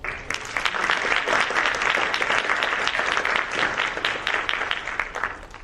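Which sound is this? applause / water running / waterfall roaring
applause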